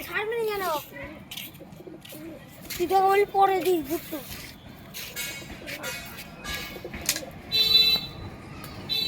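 Pigeons in a loft coo and call in short repeated bursts at close range, with speech and other clatter around them.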